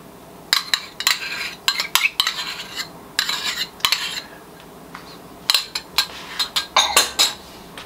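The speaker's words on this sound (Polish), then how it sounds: "Razem mieszam." A fork scrapes and clinks against a bowl while stirring cheese, sugar and cream together, in quick irregular bursts of metallic taps with brief pauses, close up and without talking.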